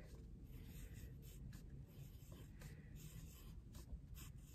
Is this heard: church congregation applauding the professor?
no